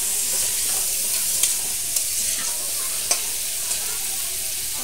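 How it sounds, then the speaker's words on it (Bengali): An olive pickle mixture being stirred in a pan on low heat, a gentle steady sizzle with occasional light spoon taps and scrapes spaced a second or so apart. "দেখুন বন্ধু নাড়াচাড়া করে নিচ্ছি, একেবারে লো আছে"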